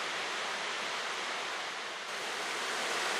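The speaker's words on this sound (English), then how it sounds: "As it emerges from the gorge, the stream courses down through the shade of more old hemlocks and yellow birch trees." A stream pours out of a gorge and runs down beneath old hemlocks and yellow birches, making a steady, broad rushing of water that holds evenly throughout with no voices.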